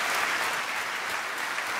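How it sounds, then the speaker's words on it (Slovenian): A large audience at a Primorska personality-of-the-year event gives loud, continuous applause, an even wash of clapping with no voices standing out. "Poželi ste bučen aplavz za tele besede."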